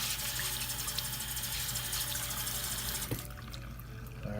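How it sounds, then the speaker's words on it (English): Warm water runs from a tap over a beard brush being rinsed of shampoo, a steady hissing splash that cuts off sharply near the end, leaving a faint quieter trickle. "Run that warm water on it."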